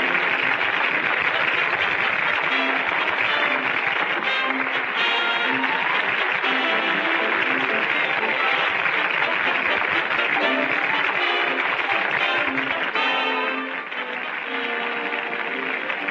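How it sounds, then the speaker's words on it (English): A theater audience applauds in a dense, steady wash of clapping that holds for about sixteen seconds and eases slightly toward the end. "Isn't that applause, huh?"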